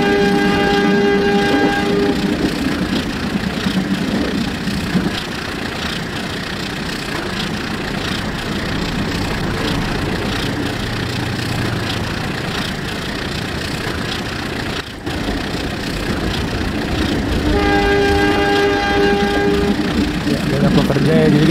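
Train in Trainz Simulator, Indonesian local service KA 458 Bandung Raya, rumbling steadily along the track while its horn sounds in loud sustained blasts at the start and again near the end.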